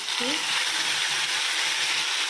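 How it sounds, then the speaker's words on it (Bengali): Bay leaf, panch phoron spices and ginger tempering in hot oil for vegetable khichuri, giving a loud, steady, continuous sizzle with a brief clink near the start. "তেল গরম হয়ে গেছে তেজপাতা দিয়েছি আর এর মধ্যে দিয়ে দেব পাঁচ ফোড়ন আর কিছুটা আদা রেখেছিলাম ওই আদাটা"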